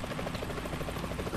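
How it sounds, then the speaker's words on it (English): Helicopter in Metal Gear Solid 2, a dense, loud rotor chop with rapid even thudding pulses filling the whole short stretch. "The chopper."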